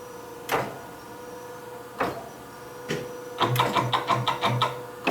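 A solenoid valve on the automatic feed mechanism of a Chevalier 12 x 24 inch three-axis precision surface grinder, heard as a few sharp mechanical clunks with gaps between them, then a quick run of rhythmic clicks and pulses over a steady machine hum.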